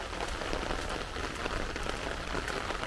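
Rain falling on a stream on a rainy day, a steady dense hiss of drops on water, constant and enveloping with no voices.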